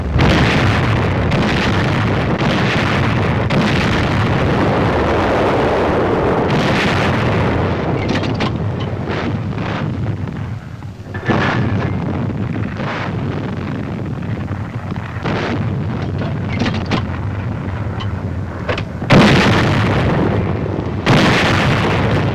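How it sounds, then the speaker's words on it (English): Army artillery firing during the 1944 Battle of Saipan near Garapan, heard as repeated loud booming blasts with rumbling echoes between shots, harsh and distant-sounding archival recording with no talking. "Army artillery goes into action."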